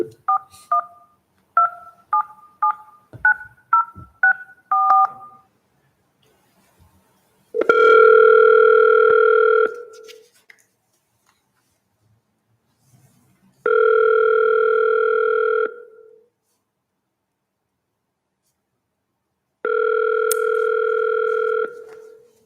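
Touch-tone dialing beeps for a conference call at a city council work session: a quick string of tones, then three long ringback tones separated by silence.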